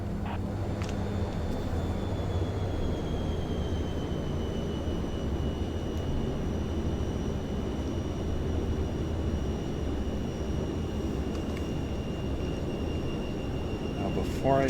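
NAMC YS-11 turboprop airliner in Flight Simulator 2024 taxiing onto the runway: a steady droning engine hum with a faint high whine held throughout, an occasional click, and a voice talking over it.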